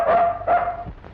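A dog barks twice in quick succession, loud and close, the sharp calls ringing out in a house in a classic Tamil film scene.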